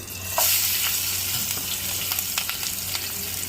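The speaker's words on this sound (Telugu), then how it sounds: "ఇప్పుడు ఇదే ఆయిల్లో కట్ చేసుకుని పెట్టుకున్న ఉల్లిపాయ ముక్కలు పచ్చిమిరకాయ ముక్కలు వేసుకోవాలి" Onion and green chili pieces fry in hot oil with a steady, close sizzle, overlaid by occasional light scraping and clinks from stirring.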